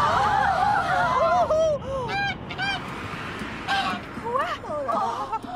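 A goose honks repeatedly in loud, close, nasal bursts, several calls in a row, amid chatter and background voices in a cartoon scene.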